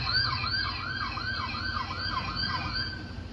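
A police car siren wails steadily at a distance, its rising and falling tone repeating evenly over low road rumble, fairly faint and with no talking.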